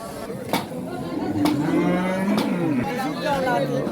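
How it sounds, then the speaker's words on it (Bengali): Cattle low repeatedly at a crowded village cattle market in rural Noakhali, several drawn-out moos rising over a steady murmur of people talking and market bustle nearby. "আজকে পুরো বাজারটাই গরুতে পরিপূর্ণ হয়ে যাবে"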